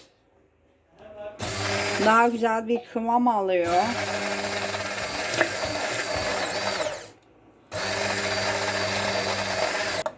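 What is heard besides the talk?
blender mixing mayonnaise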